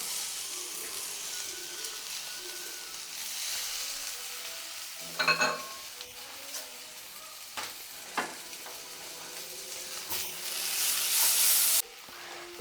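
Onion and tomato frying in a pan, a steady soft sizzle with a few louder stirring scrapes and a brief hissing surge near the end, with no talking.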